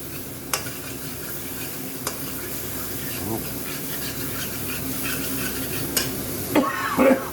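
Tomato puree cooking down in a pan for a BIR-style curry, a continuous soft sizzle with spoon stirring and scraping, a few clinks of metal on the pan, and brief talk near the end.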